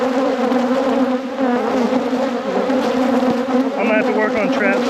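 Honey bees buzz in a dense, steady drone throughout a deep hive inspection after winter, loud and close, with a few higher whining passes from individual bees near the end.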